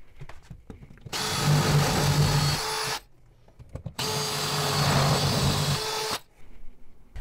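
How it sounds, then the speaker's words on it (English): A power drill with a 1/2 inch bit bores holes in a wall, whirring steadily in two long bursts of about two and three seconds, with brief quiet gaps between them, close and loud. "I'm going to take a 1/2 inch drill bit and we're going to screw 1/2 inch holes"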